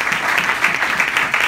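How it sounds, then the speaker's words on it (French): Steady, dense applause from a church congregation during a French-language service, a sustained wash of clapping filling the room with no break. "Acclamons le Seigneur."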